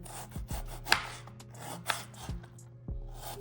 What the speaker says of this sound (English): First, I'm slicing the onion,